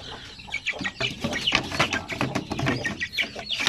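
Pure Sampin breed chickens clucking and chirping close by in a busy flock, a rapid irregular scatter of short calls with no talk.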